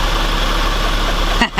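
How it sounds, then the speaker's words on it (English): Trials motorbike engine idling close by, a steady continuous rumble that dips briefly near the end. "We're going to be taking the trials motorbikes out today"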